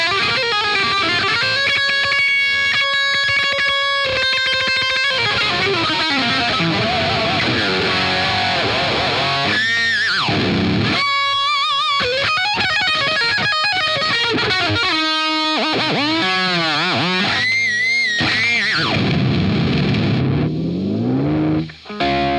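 Heavily distorted electric guitar through a Friedman BE-100 Deluxe amp on a high-gain channel, loud and continuous, with sustained chords giving way to riffs, bends and squealing lead lines.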